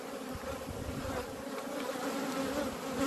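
Honey bees fill an open beehive packed with workers, giving a dense, continuous buzzing hum that stays close and steady with no voices.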